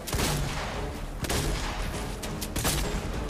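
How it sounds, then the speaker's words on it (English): Gunfire in the Fortnite video game, with loud, close shotgun blasts and rapid shots layered over dense game noise and explosions, several sharp bursts in quick succession. "The shotgun's way too much fun."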